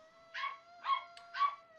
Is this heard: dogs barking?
yes